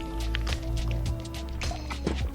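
Water trickles and drips steadily through a backpacking water filter at a campsite, a close, continuous liquid patter with no voices.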